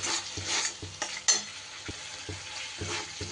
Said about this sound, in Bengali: এবারও একটুখানি নাড়িয়ে চাড়িয়ে নেব